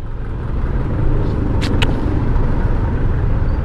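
Busy road traffic at a checkpoint, a steady low rumble of cars and engines idling and rolling past, continuous and fairly loud, with a couple of brief higher hisses.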